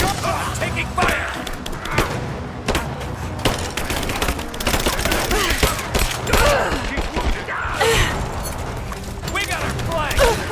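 Dense gunfire in the video game Rise of the Tomb Raider, rapid bursts and booming shots crowding together continuously, with shouting voices mixed in over the battle.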